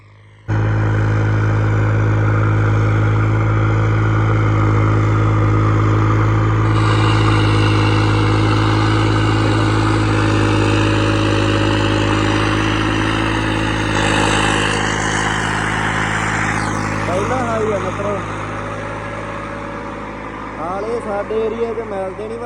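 A heavy tractor engine runs loudly and steadily close by while being driven, its pitch shifting as it revs, with no one speaking over it.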